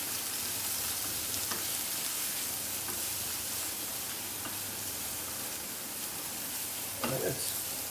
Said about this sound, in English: Now we give it a good stir so that these spices mixes well with the tomato